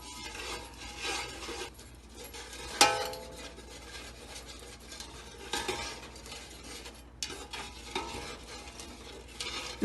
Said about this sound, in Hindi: इसको मुसलसल चलाते रहना।